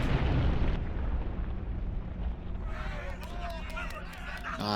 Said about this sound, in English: Cool guys, don't look at explosions.